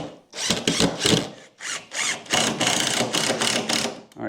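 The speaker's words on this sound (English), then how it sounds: "Now I got to cut the big piece of plywood to get the sides." A power tool cuts through a large sheet of plywood for brooder sides, loud close bursts of buzzing motor and sawing in several pulses with brief gaps between them.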